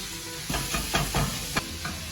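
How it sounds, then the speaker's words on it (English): Ground beef, 400 grams, stirred with a spatula in a hot pan for chili con carne, giving a steady sizzle and hiss with several soft scraping strokes of the spatula, close by. "and then put in the ground beef. This is 400 grams. Stir it up with your spatula"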